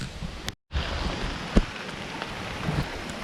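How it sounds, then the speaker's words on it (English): Rain begins to pour around a parked Toyota Xtracab pickup, a steady patter of drops with a few sharper taps, while faint low rumbles in the background may be distant thunder. "It just started raining."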